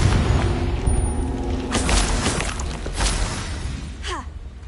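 A Confringo blasting curse going off in Hogwarts Legacy, a loud booming explosion with crackling debris and a whooshing tail that fades over a few seconds.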